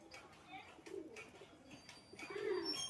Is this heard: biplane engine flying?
no